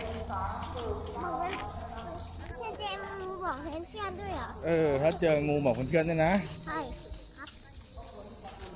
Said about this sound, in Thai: จิ้งหรีดร้องหรือเปล่า